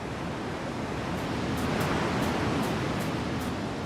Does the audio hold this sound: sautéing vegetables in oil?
no